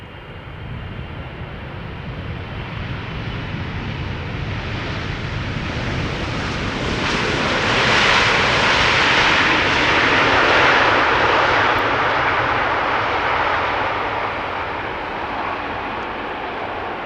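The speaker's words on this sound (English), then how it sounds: "Bigger twin jet, much more easily discernible, now landing." A KLM Boeing 777-300 twin jet lands at Amsterdam Schiphol Airport, its broad engine roar building to a loud peak midway and then easing slightly, continuous and unbroken with no voices.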